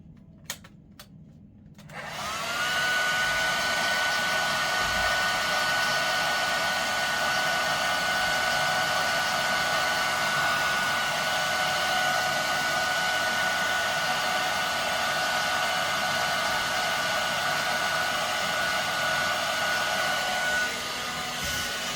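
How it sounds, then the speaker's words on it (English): A hair dryer blows steadily on a water-damaged Samsung A13 phone board, switching on after a couple of seconds of quiet and then running loud, close and unbroken with a constant whine. "I'm just going to give it a nice good blow on the hair dryer."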